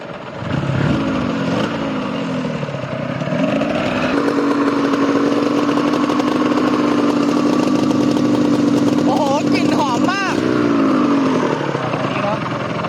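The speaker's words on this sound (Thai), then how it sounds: "ประมาณนี้ครับเสียงสองสูบ" A Suzuki RGV250 VJ22 two-cylinder two-stroke motorcycle engine idles loudly and close, with revs rising briefly near the start and again toward the end, its buzzing drone steady in between.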